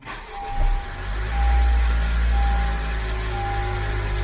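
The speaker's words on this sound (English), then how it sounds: "Turn your vehicle on." A 2016–2021 Honda Civic engine turns over with a brief start-up surge, then settles into a steady, low, close idle rumble for several seconds, with no voices.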